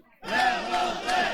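Crowd at a bare-knuckle boxing fight between Evaldas Korsakas and Andrius Trizno erupts into loud roaring cheers and shouts after a short quiet start, swelling in waves and staying dense throughout.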